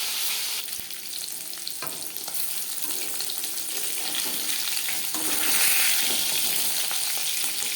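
Fish frying in a pan, a continuous loud crackling sizzle with dense spitting and popping throughout, swelling slightly toward the end, with no voices.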